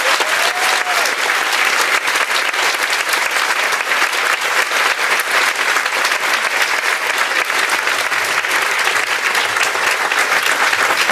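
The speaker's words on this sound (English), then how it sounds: "can we have a big round of applause please for Penny Brohn" A large audience bursts into loud, sustained applause for the Penny Brohn cancer charity at a fundraising talk, dense clapping from many hands continuing evenly without pause.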